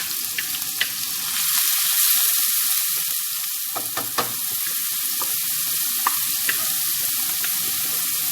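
Chopped onion sizzles in hot cooking oil in a pan, a steady crackling fry running throughout with sharp pops and spits scattered over it, close and fairly loud, no voices.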